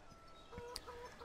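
Chicken on a farmyard in a farming video game, giving a couple of short, faint clucks over a quiet ambient background.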